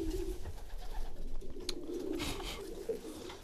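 Breeding pigeons in a loft coo softly and repeatedly in low, throaty bursts, close by, with light shuffling and background rustle in between.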